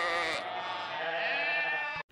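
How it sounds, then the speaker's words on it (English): Lambs bleat loudly in one long, continuous baa that fills nearly the whole clip and cuts off abruptly at the end, heard close up and alone. "The baa sound was so loud."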